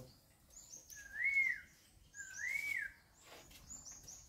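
A bird calls twice, two clear rising whistled notes, with faint chirps and light background noise.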